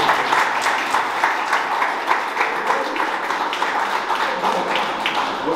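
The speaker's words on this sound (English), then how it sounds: "So y'all make a round of applause for Mike Cross and Jorgey Casanova" A live crowd claps for two guests at an in-person event, a steady, moderately loud patter of many hands with rhythmic bursts, continuing throughout without speech.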